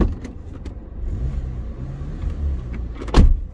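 Car idling steadily with a newly replaced exhaust, producing a low, even rumble and a brief louder thump near the end.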